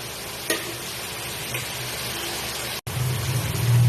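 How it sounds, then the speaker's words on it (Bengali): A pomfret fish masala with capsicum gets stirred in a pan, giving a continuous close sizzle and scraping hiss with a brief break, then a louder bubbling fry. "খুব ভালো করে একটু নেড়ে নিচ্ছি।"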